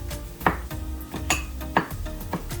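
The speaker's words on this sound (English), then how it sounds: "So this is grilled pineapple that I'm tossing in." Bite-sized pieces of grilled pineapple tossed into a pan, giving a run of clattering metallic knocks and scrapes of pan and utensil at irregular intervals over a low background.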